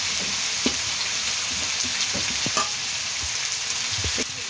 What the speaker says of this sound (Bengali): কাঁচা লঙ্কা কুচি পেঁয়াজ কুচিটা দিয়ে দিয়েছি, আর নাড়াচাড়া করে ভেজে নেব সুন্দর করে।